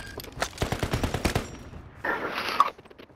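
Video game gunfire from snipers and other shooters, a fast run of sharp close shots followed by a brief louder burst and scattered reports.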